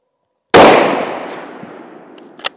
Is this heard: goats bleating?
no